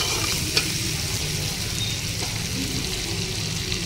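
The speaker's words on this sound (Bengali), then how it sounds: "আলু আর পেঁয়াজটা একসঙ্গে ভাজা হবে, সেই জন্য আমি কাঁচা পেঁয়াজের ওপরেই আলুটা দিয়ে দিলাম" Potatoes and onions fry together in a pan with a steady, close sizzle that runs unbroken through the whole short stretch, with no talking.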